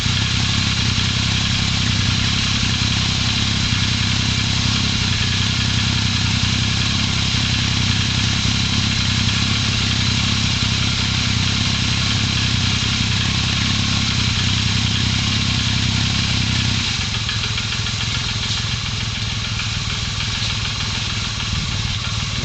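A 1978 Yamaha XS750SE motorcycle engine idles close and steady at a smooth, even rumble, its pitch shifting slightly partway through, with no talking over it.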